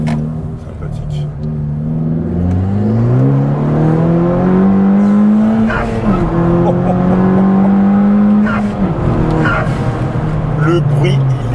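2016 Honda Civic Type R accelerating hard, the engine revving up and shifting through gears in loud rising sweeps, with a brief tire squeal, while people talk excitedly over it.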